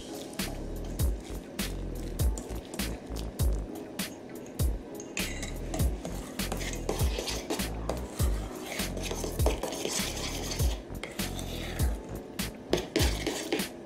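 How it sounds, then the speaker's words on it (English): Mixture whisked into almond paste in a bowl, giving quiet wet squishing and clicking strokes in an uneven rhythm over about fourteen seconds, close but faint. "Now we're gonna add this mixture into our almond paste. So just whisk it in a little."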